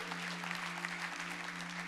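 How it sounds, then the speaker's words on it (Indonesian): A church congregation claps together in a short, dense burst of applause over a steady low hum. "berikan tepuk tangan buat mereka, this family."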